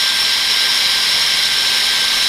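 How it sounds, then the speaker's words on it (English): A cordless drill fitted with a pop riveter attachment runs in reverse to eject the rivet mandrel, giving a steady, loud, high-pitched motor whine that holds unbroken and close throughout. "And if you now eject your mandrel, drill in reverse"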